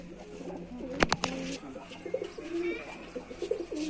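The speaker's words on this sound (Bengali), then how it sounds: "এই পুরনো পায়রার বাচ্চা।" Young Rajshahi Giribaz pigeon cooing close by, a run of soft throaty coos with a couple of sharp clicks or wing knocks early on, over a faint background hum.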